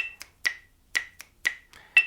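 Finger snaps keep a steady beat for rhythm practice, sharp dry clicks about twice a second with a fainter off-beat snap between them, close and clear against silence.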